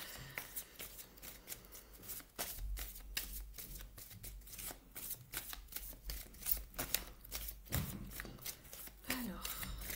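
Oracle cards being shuffled up close in a fast, steady run of crisp riffling flicks and soft slaps, with a faint voice speaking now and then underneath.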